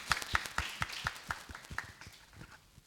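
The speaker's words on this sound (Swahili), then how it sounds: "Naomba tuwapigie makofi kwa kweli" An audience at an innovation week event in Morogoro, Tanzania claps in a quick, fairly regular rhythm. The applause is faint and sounds like a small group, with no talk over it.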